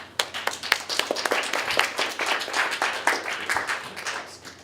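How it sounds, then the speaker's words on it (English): Colloquium audience applauding to welcome a speaker, a steady round of many hands clapping for several seconds, moderately loud in a hall, with no speech over it. "So let's give Silvia Toonen a welcoming round of applause."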